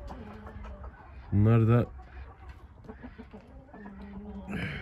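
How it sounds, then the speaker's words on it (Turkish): Chickens clucking close by on a snowy, frozen farm, a loud burst of cackling standing out over scattered softer clucks, with someone speaking briefly at the start. "Buradaki tavuklarımızı da dışarı çıkarttım."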